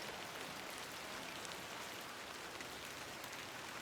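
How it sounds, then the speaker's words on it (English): Steady, faint rain hiss falling on a surface, an even wash of drops with no voices over it. "I'm glad the rain doesn't put you off."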